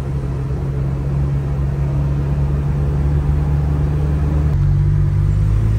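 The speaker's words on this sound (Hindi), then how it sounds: "और अभी फिर मैं ज़रा इसकी एक ट्राई ले रहा हूँ गाड़ी की।" A Honda Civic with upgraded brakes on a test drive, its engine a steady low drone with road rumble throughout, close and continuous with no talking.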